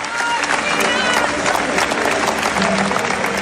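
Long, dense applause from a festival audience after a film screening in Venice, continuous loud clapping with crowd murmur mixed in, sustained throughout.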